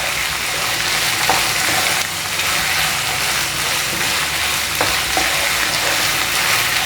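Tamarind pulp hisses in a pan of mango ginger thokku as it is stirred in, giving a loud continuous sizzle up close with occasional spoon scrapes and no voices.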